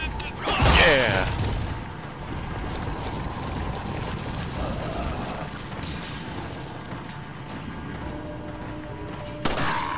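Gunshots in Resident Evil 4, a few sharp loud reports standing out, one near the start and others later, over ongoing game ambience with someone talking at times.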